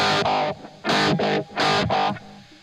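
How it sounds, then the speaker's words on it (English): Electric guitar with an echo pedal placed before the amp: three loud distorted strummed bursts in quick succession, each trailed by a smeared repeat, close and alone with no voices. "I don't like the echo in front of the amp. It's too much."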